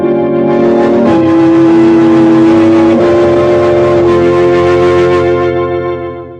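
A 1940s car engine roars close and loud, holding a steady drone before it fades away at the end, with no voices.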